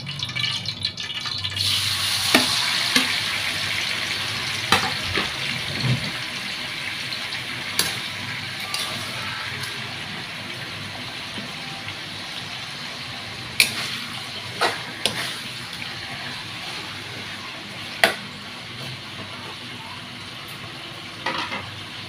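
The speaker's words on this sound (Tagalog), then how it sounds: "Tara mag prito na tayo." Beef tripe for sisig fries in a pan with a steady, loud sizzle, broken by occasional clinks and stirring scrapes.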